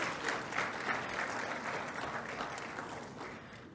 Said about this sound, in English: Another warm round of applause for our panelists and the moderator.